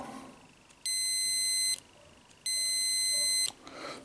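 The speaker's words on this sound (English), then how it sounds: "You hear a little audible beep, and the light on the front will light up." Two steady electronic beeps from an Olympus OM-2 Spot/Program camera battery check, each about a second long, high-pitched and close, separated by a short pause, with faint room noise between them.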